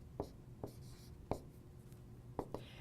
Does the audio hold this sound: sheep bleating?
no